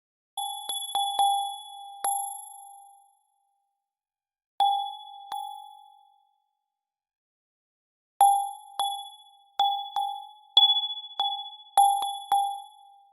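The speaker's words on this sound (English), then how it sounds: "Here's another model based on a 2D cross-section of a wine glass." Synthesized ringing of a wine glass, modelled from a 2D cross-section by finite element analysis: clear bell-like tones struck singly, then in a faster run of repeated pings, each decaying smoothly, alone with no talk.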